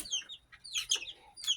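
Chickens, including small chicks, cluck and cheep in several quick, close bursts, high and chirpy, with brief gaps between and no talk.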